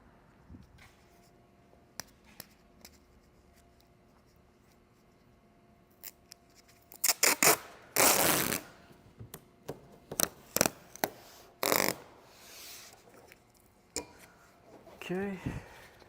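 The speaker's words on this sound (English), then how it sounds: "we'll tape off half of the hood so we have a nice 50-50 shot" Masking tape is torn and pressed onto the neglected black paint of a car hood, heard as a run of close, irregular ripping and rubbing bursts after a quiet stretch.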